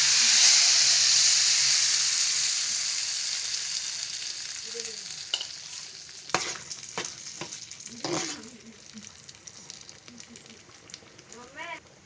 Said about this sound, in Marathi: आता आपण जी दाल खिचडी बनवली त्याच्यामध्ये आपण तडका मारायचा आहे